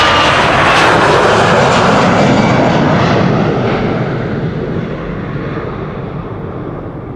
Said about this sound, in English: 737 just now took off from center.